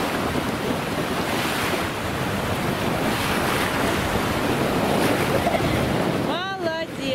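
Sea waves roll and wash onto the shore in a constant loud rush of surf, roughened by wind buffeting the microphone. A brief voice surfaces near the end.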